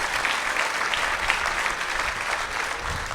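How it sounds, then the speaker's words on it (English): Guests at an annual charity event give their host a warm, even round of applause, a dense crowd clapping steadily without a break. "Please give her a round of applause."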